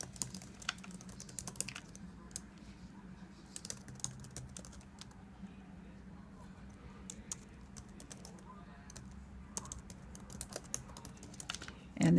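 Someone types a name on a computer keyboard while setting up a Dropbox account, producing quick, irregular clusters of key clicks over a low steady hum, close and soft.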